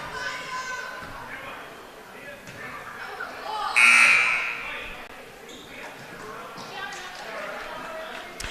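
Scoring-table buzzer sounds once, a loud tone lasting about a second, in a girls high school basketball gym at Gatesville vs Rogers, over crowd noise and ongoing talk.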